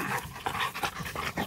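Dogs panting close by as they play, quick rhythmic breaths in short repeated bursts, with no talking.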